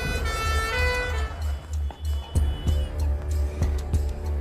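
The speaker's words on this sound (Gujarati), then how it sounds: "એમ્બ્યુલન્સ" An ambulance siren sounds continuously at close range with a steady low drone, while sharp knocks and thumps punctuate the scene in a street setting.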